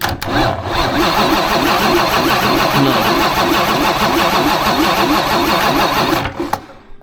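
An old high-mileage bus engine rescued from the scrapyard cranks over steadily on a weak, low-voltage battery, a loud rhythmic starter churn repeating evenly for about six seconds without catching, then cutting off.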